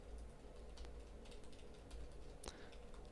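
Keys on a computer keyboard clatter in quick, light taps at close range, faint against a low background hum and ending with one sharper keystroke; no voice is heard.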